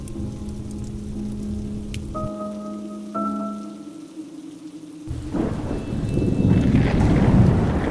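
Rain falls with a low rumble of thunder, then swells into a heavy, close downpour that keeps building in loudness.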